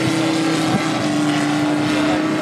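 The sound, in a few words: model 1912 aircraft propeller engine at a model show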